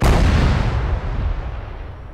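Heavy gunfire in the game Hold the Hill 3 roars loud and close as one dense, rumbling barrage that fills the whole clip and slowly eases.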